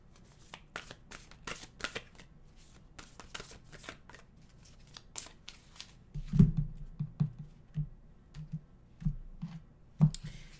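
A deck of oracle cards is shuffled by hand, giving rapid riffling flutters and soft slaps that build toward louder bursts near the end, close and with no talk.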